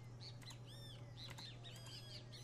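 A great kiskadee in the Minecraft Wizard's Animals mod gives repeated faint, sweeping chirps and calls with soft wing flutters over a low steady hum.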